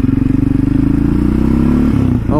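A Yamaha Raptor 700 quad engine thumps loud and close on a trail ride, with a rapid, even pulsing idle note that rises into a revving pull before easing off at the end.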